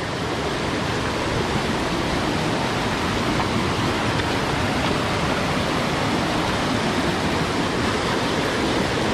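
Strong river current on Babuyan Island rushing steadily, a loud, unbroken broadband wash of water with no pauses or voices.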